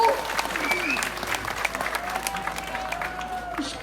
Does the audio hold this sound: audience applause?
yes